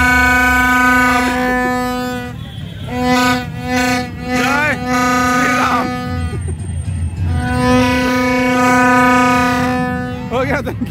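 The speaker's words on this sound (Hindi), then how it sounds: "एक हॉर्न मारिए भैया, एक हॉर्न मारिए ना" A vehicle horn blares loudly in long sustained blasts with short gaps at a Ram Navami street procession, with crowd noise and voices underneath.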